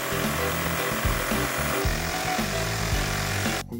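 A power tool saws through an enclosure side panel to cut an opening, giving a loud, continuous grinding buzz with shifting pitch and a brief stop near the end.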